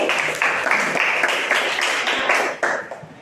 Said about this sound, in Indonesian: kita beri tepuk tangan buat Febi